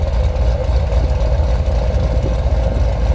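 A supercharged 2016 Corvette Z06 engine rumbles steadily nearby, a deep, loud exhaust drone holding at a constant idle.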